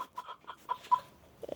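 Chickens cluck softly in short, scattered bursts, faint and close by, with no speech.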